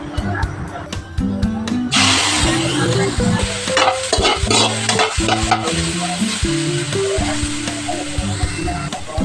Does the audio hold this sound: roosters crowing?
no